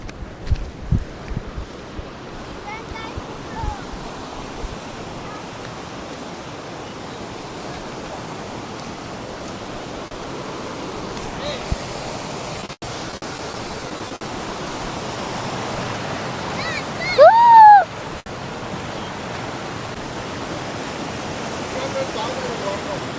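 Steady broadband rushing of a waterfall at Ghatkesar fills the scene at moderate distance, constant throughout, with brief scattered voices and handling bumps on top.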